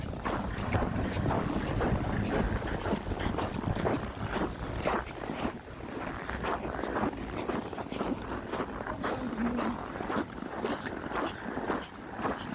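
Cold, strong wind on a snowy morning at minus 18 degrees buffets the microphone in a continuous rough roar with gusty crackles throughout.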